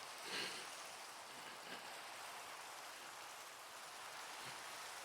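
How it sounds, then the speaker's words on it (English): Steady rain falls in the Minecraft modpack Enigmatica 6, a continuous soft hiss with a few faint drip accents, fairly quiet and unbroken throughout. "this rain keeps all the annoying people shooting at you"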